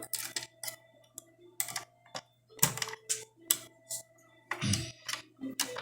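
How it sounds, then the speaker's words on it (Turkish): A screwdriver removes two screws from the motor of a disassembled CD reader, making close, small clicks, ticks and scraping taps in irregular bursts against a low steady hum, with no speech. "Motoru sıkmaya, sökmek için yanında iki adet vida var. Hemen onları açıyorum. Tornavidayla."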